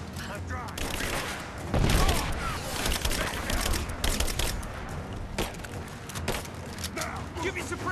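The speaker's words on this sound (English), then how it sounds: "Give me covering fire! Covering fire!" Sustained covering gunfire in the video game Rise of the Tomb Raider, dense overlapping automatic bursts and shots with a heavy boom near two seconds, loud and continuous throughout with voices mixed in.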